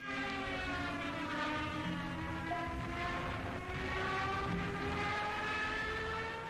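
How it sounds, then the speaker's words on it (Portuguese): A Su-57 fighter jet's loud, sustained roar with a piercing whine that rises and shifts in pitch, droning overhead without a break. "o aterrorizante som do Su-57"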